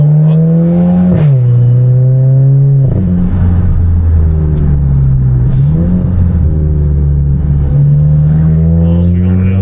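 A hot hatch car pulls away with its engine revving loudly and close, the pitch climbing and dropping through several gear changes. Voices talk over it.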